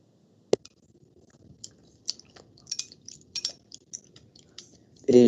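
Someone chews food close to a microphone, giving scattered wet clicks and crunchy bites in a quiet room, with a sharp tap near the start and a brief burst of noise at the end.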